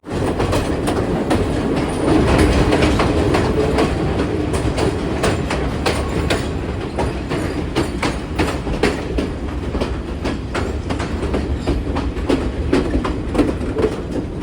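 A Sri Lankan passenger train on the Badulla to Colombo line, heard from an observation saloon coach, rumbles steadily through a mountain gorge with continuous rhythmic clickety-clack of wheels over rail joints, loud and close throughout.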